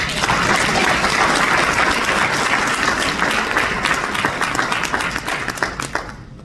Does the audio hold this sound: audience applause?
yes